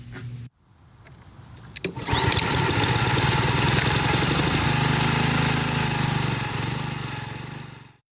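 A small lawn mower engine is pulled to start, catches with a sputter and settles into a steady close, buzzing idle that runs for several seconds before trailing off.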